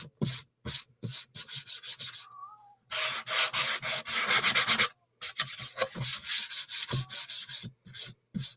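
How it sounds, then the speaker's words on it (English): Hand sanding chalk-painted wood to smooth a tape line, short rasping back-and-forth strokes in bursts separated by brief pauses, close and dry, with one longer continuous stretch of rubbing. "I'm wearing black and I'm sanding."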